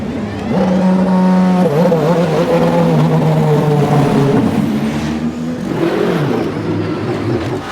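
Race cars lapping the Sebring circuit during a WEC 1000 Miles of Sebring session, loud engines revving and droning as cars pass close by, with pitch shifts as they accelerate and fade.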